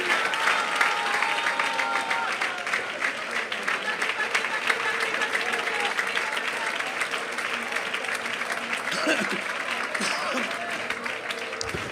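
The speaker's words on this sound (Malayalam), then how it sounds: "കൈയടിക്കുന്നേ, നേരെ കൈയടിക്കുന്നേ" A congregation bursts into sustained applause during a Malayalam Christian sermon, dense, continuous clapping from many hands filling the space for several seconds, with a voice talking over it and a few louder claps near the end.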